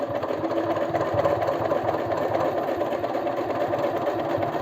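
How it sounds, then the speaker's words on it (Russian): A sewing machine runs steadily, stitching a second line of topstitching into the seam groove of a pair of jeans being taken in, a continuous close motor whir with no talk. "Я продолжаю прокладывать вторую строчку."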